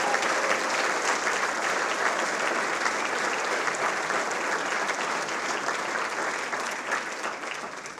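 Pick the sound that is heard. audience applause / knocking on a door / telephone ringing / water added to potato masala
audience applause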